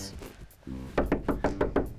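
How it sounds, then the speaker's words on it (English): Knocking on a door during a live comedy stage show, six evenly spaced firm knocks close by after a brief low thump, with no talk over them. "Knock on the door!"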